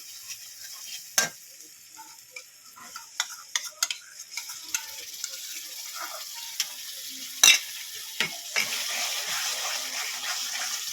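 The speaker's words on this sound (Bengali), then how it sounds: "ভালো করে মশলাটাকে কষিয়ে নেবো" Ground masala with sour yogurt fries on a low flame for a rui fish korma. It gives a steady, hissing sizzle, and a stirring spoon scrapes and taps against the pan now and then.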